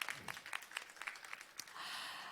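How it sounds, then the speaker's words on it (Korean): Attendees at a Korean vocational training evaluation seminar give a quiet round of applause; soft, uneven claps patter along and then merge into a brief diffuse wash. "여러분 큰 박수 보내주시기 바랍니다."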